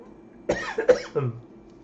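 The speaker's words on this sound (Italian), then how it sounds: "colpo di tosse" A single short cough, two or three sharp bursts close together, close and clear against a quiet room.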